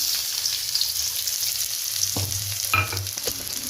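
Chopped garlic and onion dropped into hot oil, a steady close frying hiss with a sharp thud and clatter near the middle as the pan is stirred, no speech.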